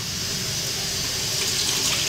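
Tap water runs steadily into a kitchen sink while dishes are washed, a close continuous hissing rush that swells slightly toward the end.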